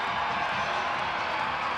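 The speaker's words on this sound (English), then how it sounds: "Crowd's bringing some juice, Joe." A hockey arena crowd roars steadily during overtime of an Iowa Wild versus San Jose Barracuda game, a dense, even wash of cheering with no breaks.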